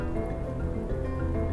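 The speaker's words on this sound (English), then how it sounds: "the rain was loosed from the heavens" Steady, dense rain pours down in a thunderstorm, a constant close wash of drops with no distinct thunderclaps and no voices.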